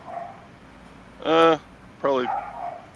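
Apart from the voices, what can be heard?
dogs barking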